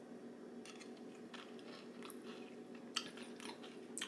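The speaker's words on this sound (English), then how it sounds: "Crunchy top. Oh, I could hear it." Someone biting and chewing the crunchy top of a keto cinnamon dessert with a brown-sugar, banana aroma, giving close, soft crunches and mouth sounds over a low steady room hum, with a sharper bite near the end.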